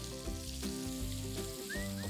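Calf liver and smoked bacon frying in a pan, a soft continuous sizzle and crackle at low level with faint tonal hum underneath, steady with no talk.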